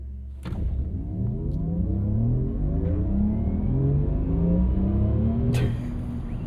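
A 2025 Porsche Macan 4S Electric SUV, 509 hp, launching hard under launch control, with a rising electric motor whine that climbs in pitch through several sweeps over steady road and wind rumble, close inside the cabin, no talking.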